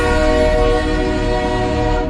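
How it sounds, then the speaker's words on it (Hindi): A train horn blares loud and sustained, a steady rich chord held without a break as the train approaches head-on along the tracks. "मेरे बिल्कुल सामने आ रही उस ट्रेन के हॉर्न की"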